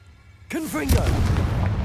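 Confringo fire spell from the video game Hogwarts Legacy: after a short near-silent lead-in, a sudden loud explosive burst erupts with a brief voice over its start, then a sustained roaring, crackling blast that stays loud to the end.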